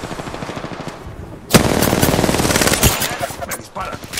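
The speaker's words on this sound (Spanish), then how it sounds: "¡Me disparan!" Automatic gunfire in the shooter video game Apex Legends: after a quieter stretch of rapid faint shots, a sudden loud burst erupts and continues as sustained rapid fire with crackling impacts, close and dominant.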